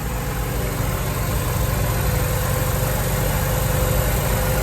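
A car engine idles smoothly and steadily, a close low rumble with a soft even vibration and no other sounds.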